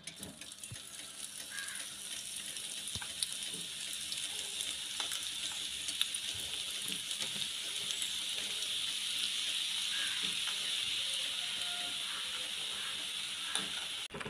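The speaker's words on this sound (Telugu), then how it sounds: "ఇప్పుడు ఈ నూనెలో వేసుకున్నది బాగా వేగించుకోవాలండి. మనం ఇలా తిప్పుకుంటూ వేగించుకోవాలండి." Ground henna leaves sizzle in hot mustard oil in a pan, a steady, fairly loud crackling hiss with small pops and occasional scrapes of stirring, close by and with no voices.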